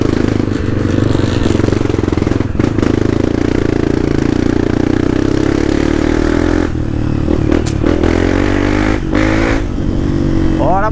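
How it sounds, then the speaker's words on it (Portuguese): A Honda CRF250X dirt bike engine runs loudly and steadily throughout, with a rough, buzzing four-stroke drone and brief dips near the end. "Essa moto desse tom é uma CRF250X, né, importada 4 tempos."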